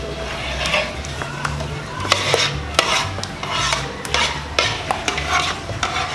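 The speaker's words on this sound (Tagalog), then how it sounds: "hahaluin po natin para magsama-sama po yung ating mga sangkap" Durian ice candy ingredients stirred together in a pot, with repeated scraping and clinking of a spoon against the side in an uneven rhythm, moderately close.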